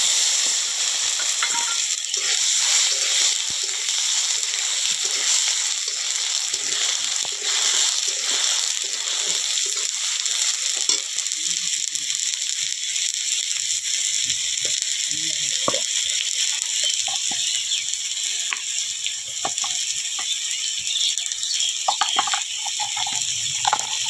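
Tomatoes fry in a pan in a village kitchen, a loud, steady sizzling hiss throughout, with occasional clinks and scrapes breaking through in the later part.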